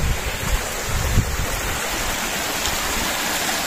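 Water pouring from a pipe into a small stream, a steady rushing splash close to the microphone, continuous and fairly loud with a brief thump early on and no speech.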